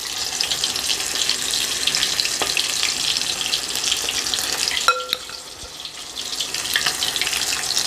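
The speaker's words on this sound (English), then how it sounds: "these are gonna fry for about a minute on each side" Fish frying in a pan of hot oil, a steady bright sizzle and crackle throughout, with a few clinks of utensils and a short tonal beep partway through, no talk.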